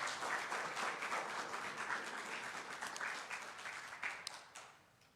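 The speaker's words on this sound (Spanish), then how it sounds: "Dele una ofrenda de palmas al Señor." A church congregation gives applause during a Spanish-language sermon, a dense, steady wash of many clapping hands heard at a distance and fading slightly toward the end.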